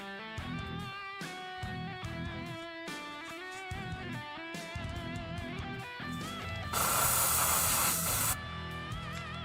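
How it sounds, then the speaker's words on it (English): A quick, subtle spritz of spray paint from a can onto a miniature, one loud hiss lasting under two seconds against a backdrop of steady background music. "Just a real quick, subtle spritz."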